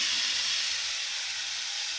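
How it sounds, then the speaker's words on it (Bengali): Fried potatoes tipped into a pan of hot, well-cooked spice masala for kabuli chana aloo give off a steady, close broadband hiss and sizzle that holds evenly for about two seconds without talk. "এবার মশলার মধ্যে আমি ভেজে রাখা আলুগুলো দিয়ে দেবো।"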